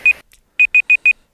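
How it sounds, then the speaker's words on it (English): Four evenly spaced electronic beeps from a Google smart speaker timer alarm, loud and close, following a short earlier beep, with no talk over them. "You can hear my terrible Google timer."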